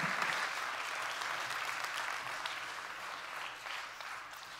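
A church congregation breaks into warm applause, loudest at the start and gradually thinning over a few seconds as the clapping settles.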